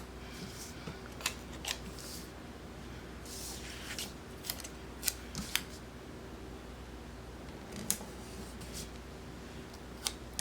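Scissors snip paper for a Happy Planner layout, giving a scattering of short, crisp cuts at an irregular pace over faint room hiss. The snips are near and fairly quiet, and no one speaks.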